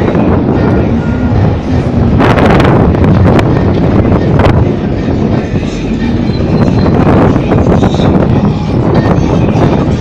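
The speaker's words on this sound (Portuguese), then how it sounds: "Olha o jeito daquele vento." Strong wind roars and buffets a microphone during a motorcycle ride, a loud continuous rushing blast with gusty surges throughout, no clear talk.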